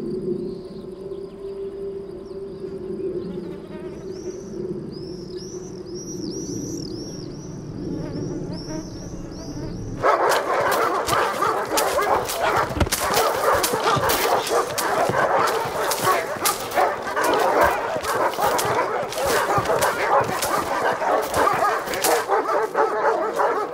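Hungry guard dogs in a prison camp begin with yelps and a wailing, siren-like howl. Then a pack breaks into loud, frantic, continuous barking that fills the rest of the stretch.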